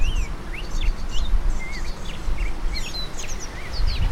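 Lesser goldfinches chirp nearby outdoors: a steady scatter of short, high, sweet calls and twittering notes over several seconds, with no talking.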